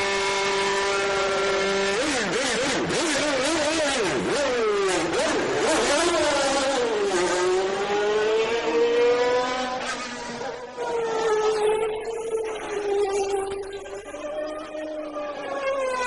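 Formula One race cars, including a Lotus Judd, scream past at speed, high-pitched engines rising and falling in pitch as several cars pass in close succession, loud and sustained.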